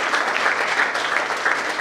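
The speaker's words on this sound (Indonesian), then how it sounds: "Kita berikan tepuk tangan." Brisk, dense applause from an assembled audience honoring a provincial governor during a visit to a Christian high school, steady clapping throughout that sounds close and fairly loud.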